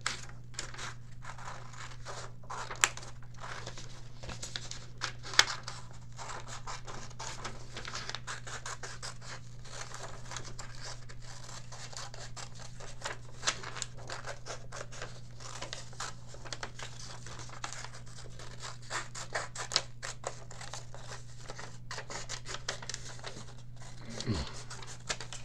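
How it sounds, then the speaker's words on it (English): Child-friendly scissors snip and rasp through paper in quick, uneven cuts during a kids' craft, faint and close, with a person talking over the work. "Then I'll take my child-friendly scissors and we'll cut this out together very"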